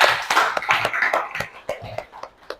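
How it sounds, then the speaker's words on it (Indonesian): Schoolchildren in a classroom clap in a short burst, a quick run of crisp, uneven handclaps close by that thins out and fades within a few seconds. "Oke, beri tepuk tangan dulu."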